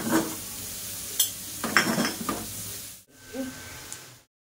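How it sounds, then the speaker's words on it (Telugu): Garlic frying in hot oil for a tempering, with a soft sizzle and intermittent scraping and clinking of a spoon stirring in the pan, fairly quiet and close, ending in silence. "నూనె తాలింపు పెట్టాను అనమాట, ఎక్కువ వెల్లుల్లిపాయలు వేసి."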